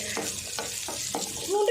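Chana dal and urad dal crackle and sizzle in hot oil in a pan, with a few soft stirring scrapes at a steady rhythm, close and moderately loud.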